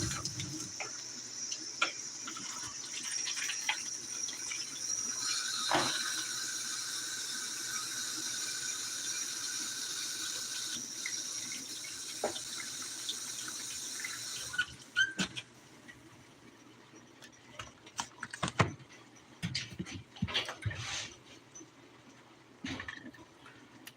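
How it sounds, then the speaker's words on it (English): Tap water runs steadily onto meat being prepared in a home kitchen for holiday collards and turnips, a continuous close hiss lasting about fifteen seconds before stopping, followed by scattered clatter and handling noises. "Add some water to the meat."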